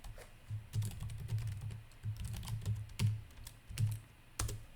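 Rapid, uneven keystrokes on a computer keyboard while coding, close and steady in bursts with short pauses, no talking.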